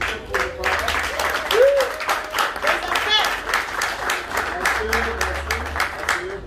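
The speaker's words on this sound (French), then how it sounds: "Applaudissez pour les parents." At a Congolese wedding, guests clap for the bride's parents, a lively rhythmic patter of many hands, fairly loud and near, mixed with voices and cheers from the crowd throughout.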